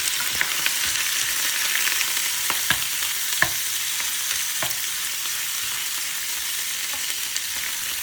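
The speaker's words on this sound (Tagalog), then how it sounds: "Prito ang baboy hanggang maging crispy." Pork frying in hot oil until crispy for Filipino pork binagoongan, a steady close sizzle with occasional sharp pops and crackles and no talking.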